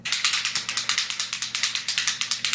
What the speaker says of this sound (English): I still kind of want to spray like a crap ton of this on my face